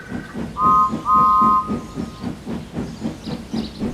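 A steam train engine puffs out of a station with a steady rhythmic chuffing and hiss, broken by two short whistle blasts early on.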